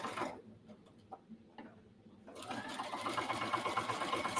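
Sewing machine stitching about an eighth of an inch from the edge of a cross-body bag, a steady close mechanical whir starting partway through and running continuously after a few faint clicks.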